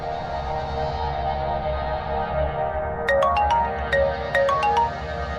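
A phone ringtone plays, a repeating bright electronic melody of quick high tones over a steady hum, fairly close and clear.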